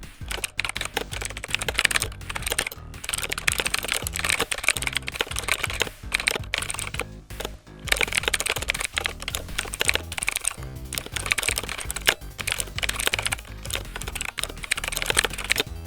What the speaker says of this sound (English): Now let's type something into the text box and see